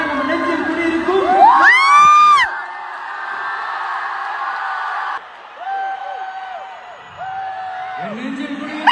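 An excited crowd at a Malaysian audio launch event for actor Vijay cheers and whoops, with high shrill yells and shouts rising and falling over a steady roar.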